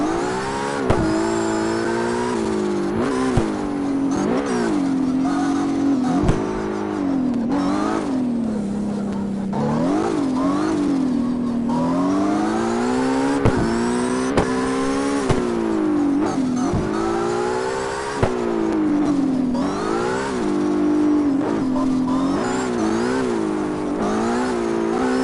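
A loud racing car engine in the video game CarX revs continuously, its pitch sweeping up and down through repeated gear changes, with a few sharp clicks along the way.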